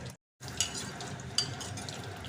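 Dried red chillies and spices frying in hot oil for a tempering in a tomato dal curry, giving a steady close sizzle with faint stirring clinks, after a brief silent gap near the start.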